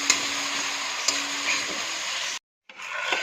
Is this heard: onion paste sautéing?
yes